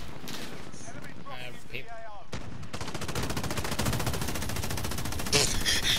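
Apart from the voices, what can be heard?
gunfire in the video game Warzone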